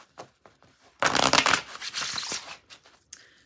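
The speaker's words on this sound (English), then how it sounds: "Let me shuffle again." A tarot card deck being shuffled, a dense riffling burst of cards at close range lasting about a second and a half, with scattered softer card taps and handling noises before and after.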